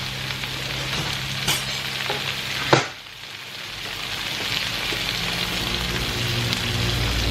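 Patola and tuna cream with shrimps being stirred in a hot pan give a steady sizzle with soft scraping strokes and one sharp clack of the utensil, close and continuous with no talking.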